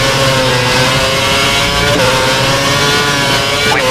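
Formula 1 car engine in the F1 2011 video game at the Canada race, a loud, high-pitched racing whine held steadily at close range with brief gear-change dips.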